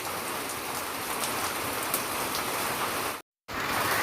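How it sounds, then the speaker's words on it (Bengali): Steady rain patters and drums on a house, forming a dense, even hiss of drops that cuts out briefly for a moment before resuming. "রিমঝিম এই বৃষ্টির শব্দ যদি নাই শুনতে পায় তাহলে এটা কিসের বাড়ি"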